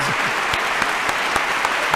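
Crowd applause rolls steadily with scattered sharper individual claps standing out, a continuous mid-level wash heard without talk over it.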